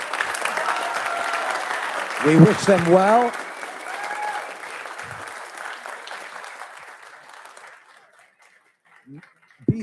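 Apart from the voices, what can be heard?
applause for new council officers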